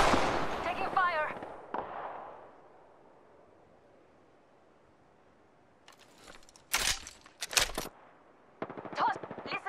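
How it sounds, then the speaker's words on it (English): Bursts of gunfire in the video game Apex Legends: a talky, busy opening gives way to a quiet stretch, then several loud, sharp volleys crackle in rapid clusters near the end. "Listen up, I'm getting shot at."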